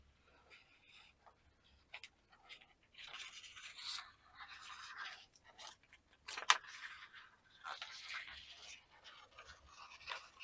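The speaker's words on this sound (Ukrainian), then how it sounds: "А тепер знімаю плівку." Quiet crinkling and soft scratchy rustles of plastic film being slowly peeled off a no-bake strawberry cheesecake, in short irregular bursts with brief pauses.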